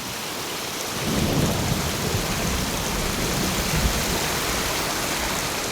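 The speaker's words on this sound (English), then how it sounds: "Under the waterfall." A waterfall in the Ghost of Tsushima game, a steady, dense rushing roar of falling water that swells slightly after the first second and then holds evenly.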